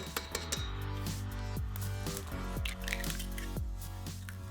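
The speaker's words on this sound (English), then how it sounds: "Add the syrup to the mixing bowl and then crack in 3 large eggs." Thick gooey golden syrup drips into a mixing bowl, then three large eggs are cracked in, giving soft wet squishes and plops with a few sharp cracks, close and clear with no talking.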